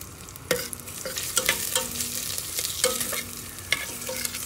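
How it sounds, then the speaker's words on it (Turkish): Onions sizzle steadily in a hot pan while a utensil scrapes and stirs in repeated strokes, close up. "Hafif pembeleşinceye kadar soğanlarımızı pişireceğim."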